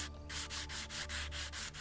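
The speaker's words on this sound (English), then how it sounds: "choose the sandpaper from the radial. And we're going to fix the rusty track here." Sandpaper sands a rusty track in the Train Station Renovation video game: a steady run of soft, rhythmic rubbing strokes, about six back-and-forth passes, fairly quiet and close.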